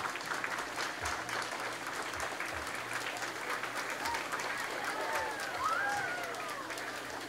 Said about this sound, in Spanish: Gracias por el aplauso